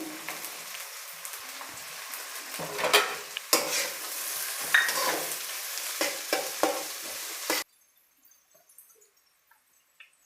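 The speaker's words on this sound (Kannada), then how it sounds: "ಈರುಳ್ಳಿ ಜೊತೆಗೇ ನಾನು ಕಟ್ ಮಾಡಿರೋ ಬೀಟ್ರೋಟ್ನ ಸೇರಿಸ್ತಾ ಇದ್ದೀನಿ" Chopped beetroot and onions fry in a pan, stirred in busy, uneven scraping strokes over a loud sizzle for several seconds, then stopping abruptly and leaving near silence with a few faint ticks.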